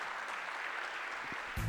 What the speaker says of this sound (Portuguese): Vamos dar uma salva de palmas para o Senhor, para o Pai, para o Filho, para o Espírito Santo.